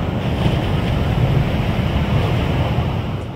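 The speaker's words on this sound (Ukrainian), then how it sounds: "А тут саме гурчання. Міць і сила океану відчувається навіть у таких невеличких, майже штильних хвильках." Small, nearly calm ocean waves rumble steadily onto an Argentine beach at Villa Gesell, a loud, dense, continuous low wash with some wind noise and no voices.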